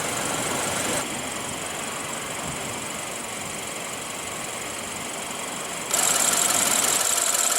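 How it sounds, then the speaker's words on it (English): A 2016 BMW 328i with a 2.0-liter turbocharged inline four-cylinder idles steadily, a constant close hum and hiss that stays even throughout, stepping slightly louder and brighter near the end, with no talking. "It's a 2-liter turbo inline 4-cylinder that produces 240 horsepower and 255 pound-feet of torque."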